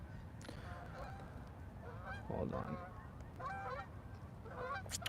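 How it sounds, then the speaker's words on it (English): A flock of geese honks repeatedly in a series of nasal calls against steady background noise, with a person briefly speaking over them. "I keep seeing this flock of geese"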